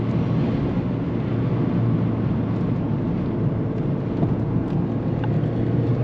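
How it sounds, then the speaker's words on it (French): A Mazda MX-5 convertible's 126-horsepower engine drones steadily while driving, a low continuous rumble mixed with road and wind noise, with no talk over it. "Le moteur il commence vraiment à délivrer le peu de sa puissance"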